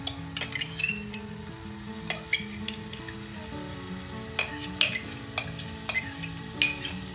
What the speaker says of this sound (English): the key to any kind of stir fry kind of cooking is to keep it moving